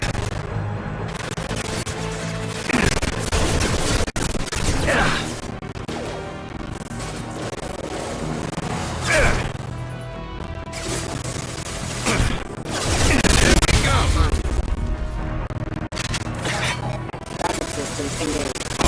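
Gunfire from the Impact shot in the Mass Effect video game rings out as repeated loud crashing blasts amid a dense, busy battle mix, with voices speaking over the action.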